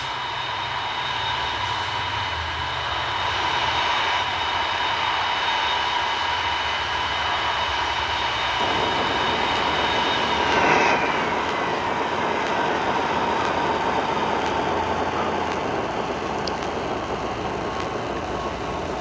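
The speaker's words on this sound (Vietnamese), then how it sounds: "Đây màn hạ cánh đây này" Airplane N251CV landing at Tan Son Nhat airport and braking with reverse thrust, a loud continuous roar with whining engine tones that swell and shift midway as the aircraft slows.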